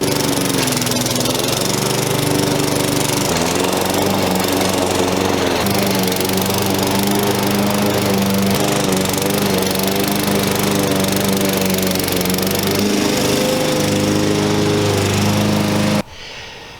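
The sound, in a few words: lawn mower cutting Bermuda grass down to 1 inch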